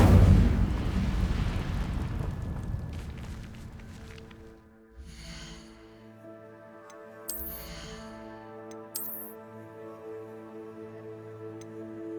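A fire spell cast in a video game: a heavy, roaring whoosh and rumble at the start that fades out, with later bursts and sparkling magical tones over a sustained musical drone.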